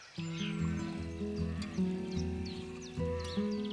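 Sheep bleat in long, wavering calls, several voices overlapping and answering one another close by in a cold rain forest, with faint birdsong in the background.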